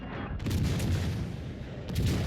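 Heavy naval guns booming in World of Warships Legends, a dense, continuous barrage of deep blasts with two sharper volleys near the start and end, loud and close, with no talk over it.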